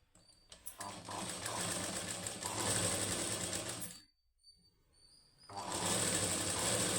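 A sewing machine stitches a plain high-neck blouse, running in a fast steady whir, stopping briefly for a reverse, then starting again with an even hum.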